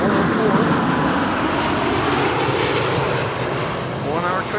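An ITA Airways Bombardier C Series 100 jet arriving from Milan gives a loud, continuous engine roar that dips slightly toward the end, while a voice talks briefly near the finish.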